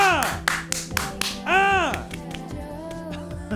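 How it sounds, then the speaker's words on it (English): A few sharp hand claps ring out in a small podcast studio as a guest is welcomed, scattered and close, with voices talking and laughing over and after them. "Oh my gosh, an applause."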